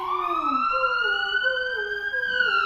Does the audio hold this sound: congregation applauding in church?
no